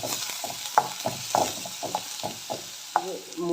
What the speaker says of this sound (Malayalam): ഒരു മീഡിയം സവാളയാണ് ഞാൻ അരിഞ്ഞ് വെച്ചിട്ടുള്ളത്, അതിട്ടു. നന്നായിട്ടൊന്ന് വഴറ്റി കൊടുക്കാം.